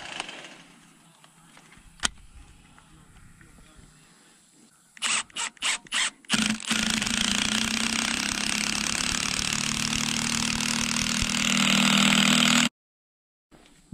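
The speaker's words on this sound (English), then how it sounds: "I'm swapping over to my impact." An impact driver fastening a farm fence: a few short stuttering bursts, then a long continuous loud hammering run of about six seconds that stops abruptly, with no talking.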